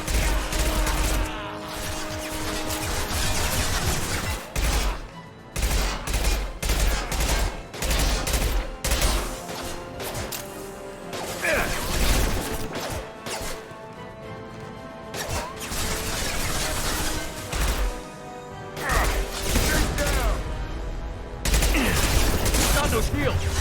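Impact gun fire in Mass Effect makes heavy, rapid, crashing bursts that continue almost without a break through dense combat noise, with voices shouting underneath.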